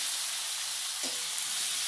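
Chopped tomato sizzles as it hits onions already fried in a pan; a soft steady hiss runs throughout, with a brief clattering burst near the middle.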